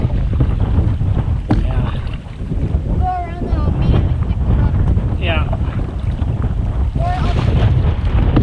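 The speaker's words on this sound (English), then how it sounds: "See if we can catch a little break from the wind" Strong wind roars across a lake during a canoe trip in the Boundary Waters, buffeting the microphone in a loud, steady rush with low rumbling gusts, while a few faint squeaks and knocks come and go.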